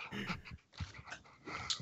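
A voice imitates a pet dog panting in the room, with quick breathy huffs and a soft whimper in short bursts at close range during a tabletop role-playing session.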